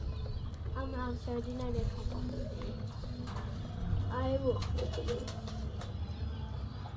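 Pigeons coo in soft, repeated phrases over a steady low background rumble, with a few brief sharper sounds mixed in.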